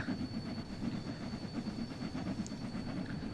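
A simulated British locomotive runs on rails in Train Sim World 6, a steady rumbling roll with faint rhythmic clatter and a thin constant whine, no talking over it.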